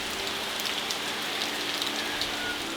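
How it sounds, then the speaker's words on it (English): Steady rain falls on surfaces at a home in the mountains near Ormoc, Philippines, a dense continuous hiss without breaks and no voices. "I'm bringing the rain with me."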